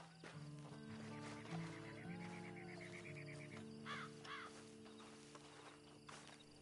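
In the video game Red Dead Redemption 2, a horse whinnies over steady background music and soft hoofbeats, with a few bird-like caws mixed in; no speech.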